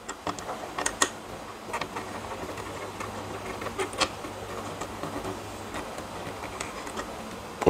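Parts of an 18650 battery discharging station are tightened by hand, giving faint, scattered small clicks and ticks at close range over a quiet background, with no talking.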